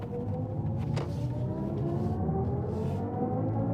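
A BMW i5 eDrive40 in sport mode plays a synthetic drive sound through its speakers, a layered tonal hum with slowly rising pitches over the low road rumble, one brief sharp swell near the start.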